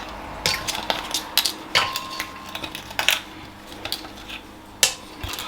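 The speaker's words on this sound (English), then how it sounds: "And then we're gonna add some ice cubes." Hard ice cubes clatter and clink against a blender jar with water in it, scattered sharp knocks, fairly close, with no talking.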